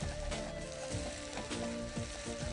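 Ingredients frying in a pan with sauce and salt, a continuous close crackling sizzle with light stirring, steady and unbroken with no talk.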